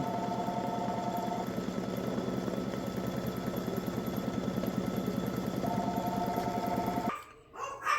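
An embroidery machine tacks down fabric with a rapid, steady stitching rhythm, close and continuous, then stops abruptly near the end and leaves a few soft handling noises.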